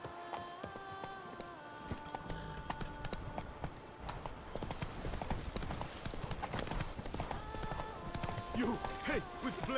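Steady clip-clop hoofbeats of Roach, the horse in The Witcher 3: Blood and Wine, galloping at a fast rhythm, with game voices and tonal sounds layered over the hooves.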